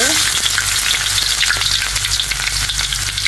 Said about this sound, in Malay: kita boleh menumis sekarang ok kita boleh masukkan halia ya